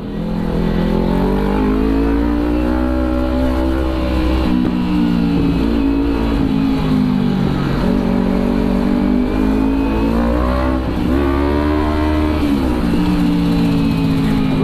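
Kawasaki Ninja 300 motorcycle engine revving hard during a street race, a loud, steady high-pitched drone with rising and falling pitch swells that continues throughout.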